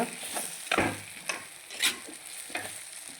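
Egg curry with spring onions and potato frying in a pan as a spoon stirs it, giving a steady close sizzle with several sharp scraping strokes and no talking.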